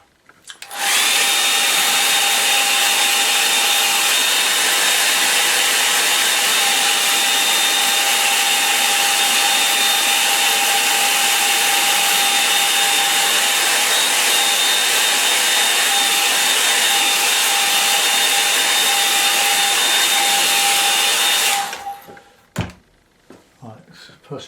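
A hair dryer drying a watercolour painting of a Cornish inlet runs loud and steady for about twenty seconds with a constant whine, then cuts off abruptly, followed by a few faint knocks.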